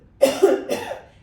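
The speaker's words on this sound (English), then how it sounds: "give yourself a few little coughs" A few short coughs from one person, close and fairly soft, in two quick bursts with a brief pause between them, during a guided core-stability exercise.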